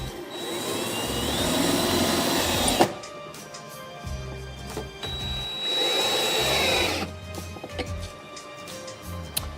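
A power drill driving screws to mount a charger, in two whining bursts a few seconds each, close and fairly loud, with quieter handling clicks between them and no talk.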